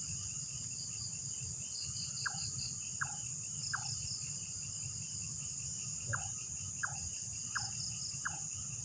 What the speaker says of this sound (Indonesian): Suara burung hantu apa ya? Tapi kok suaranya cuk cuk cuk kayak begitu ya?